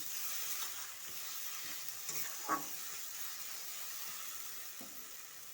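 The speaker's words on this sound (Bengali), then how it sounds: "একটু নাড়তে হয় বেশিক্ষণ, যেহেতু বাঁধাকপি জলা জলা, একটু না শুকালে ভালো লাগে না।" Cabbage mash stirred in a pan over a soft, steady background sizzle, with an occasional faint scrape of the utensil, quiet and close, no speech.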